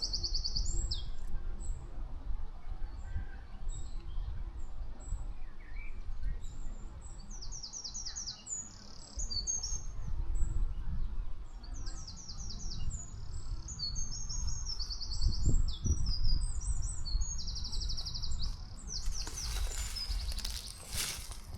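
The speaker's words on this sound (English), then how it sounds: "Can you hear the birds?" Birds chirp and sing repeatedly outdoors among bluebells, bright trills and tweets scattered throughout over low wind-like rumble, with a denser burst of calls near the end.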